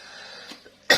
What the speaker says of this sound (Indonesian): Maaf ya kalau sambil batuk-batuk sedikit